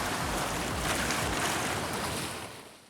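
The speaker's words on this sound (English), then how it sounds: "played sounds of waves and seagulls" Recorded ocean surf plays from an iPod hidden inside a conch shell, a dense, steady wash of breaking waves that stays loud, then tapers off at the end.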